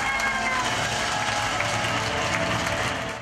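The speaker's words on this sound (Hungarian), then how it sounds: "Felállva tapssal köszöntötték a megjelent pécsiek Mesterházy Attilát lakossági fórumán." Standing ovation from a crowd of residents at a political party's public forum in Pécs, Hungary: dense, sustained clapping fills the whole stretch at steady loudness, with no voices standing out.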